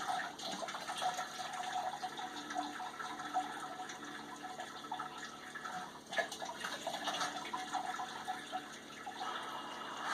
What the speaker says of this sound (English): Let it drain off a little bit. I'll get it into the storage pot.